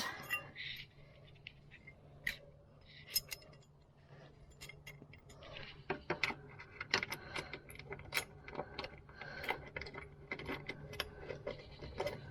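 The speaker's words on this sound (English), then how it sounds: "let's bolt up the brackets" Close metallic ratcheting, clinks and rattling of hardware while side step brackets are bolted up on a Toyota Tacoma Double Cab, irregular quick bursts throughout at moderate volume.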